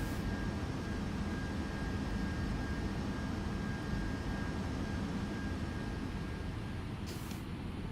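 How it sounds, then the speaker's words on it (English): Jet taking off in a video game, a constant whooshing engine roar with a thin whine on top, steady and moderately loud for the whole stretch. "I'm hopping into a jet."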